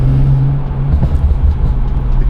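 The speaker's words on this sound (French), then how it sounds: "Le pop and bang." BMW 335i Rocket Bunny with an aftermarket exhaust, its engine rumbling and burbling loudly and close by, with a low steady drone and a brief crackle near the middle; no talk.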